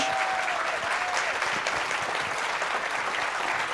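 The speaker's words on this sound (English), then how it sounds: "if you put your hands together and give it a round of applause" Audience applauding the panelists at a panel discussion on democracy and the rule of law, a continuous even wash of clapping, moderately distant, with no voices rising above it.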